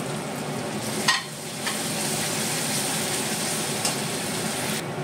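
Masala cooking down with tomato puree in a pan, an even, close frying sizzle with occasional sharp scrapes of a stirring spoon.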